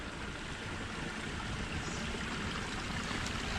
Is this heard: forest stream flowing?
yes